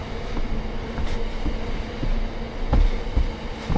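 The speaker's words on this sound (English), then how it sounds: "Great Western Railway, London to Bristol Temple Meads." A Great Western Railway train on the London to Bristol Temple Meads line rumbles past at steady volume, with a continuous heavy roar and a few louder swells of rolling noise.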